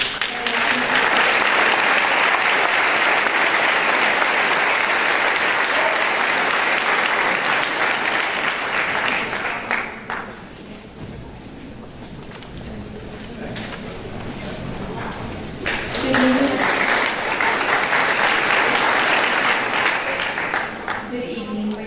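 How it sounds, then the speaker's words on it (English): Applause from an audience at a school scholarship and department awards night, dense and sustained, dips after ten seconds, then swells again, with a voice speaking over the lull. "May I please have a round of applause for Jacqueline Rodriguez."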